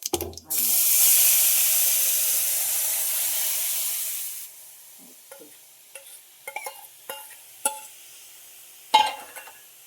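Home-ground spice powder tipped into hot oil already holding mustard seeds and turmeric, for a spicy cowpea pod curry, hisses in a loud, steady sizzle for about four seconds, then fades into a few scattered clinks of stirring.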